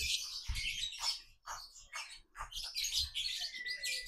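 A male lovebird, once a fighter, gives repeated sharp chirps and squawks in short bursts with brief pauses between them, close and fairly loud.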